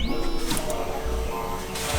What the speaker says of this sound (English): Moving print head.